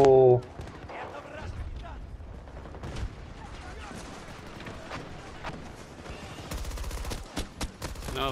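An automated turret fires nonstop in Battlefield 2042, a loud, dense stream of gunfire and booms with mechanical clatter, under excited talk from a player.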